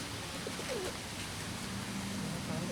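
Pigeons cooing softly in Charleston, South Carolina, a few low coos heard faintly under steady outdoor background noise.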